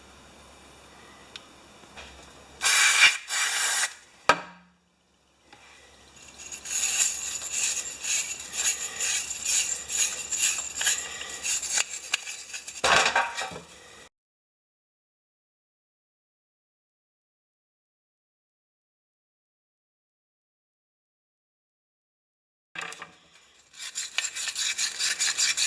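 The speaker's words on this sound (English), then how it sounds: "So I'm just reassembling the rest of this Honda carburetor." Reassembling a Honda clone carburetor from a Homelite pressure washer fuel system, with bursts of close scraping and rubbing of metal parts separated by stretches of silence.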